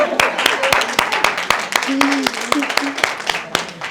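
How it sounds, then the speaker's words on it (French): Sharp, evenly spaced claps ring out close by, a steady run of hand claps lasting a few seconds while a person keeps talking over them. "On applaudit pour elle"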